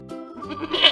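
A goat lets out a single short, wavering bleat that rises and brightens toward the end, heard close and alone.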